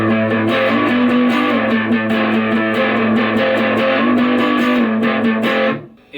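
A Silvertone 26931 electric guitar played through its rhythm pickup, with strummed, sustained chords ringing loud and slightly distorted, then cutting off abruptly near the end.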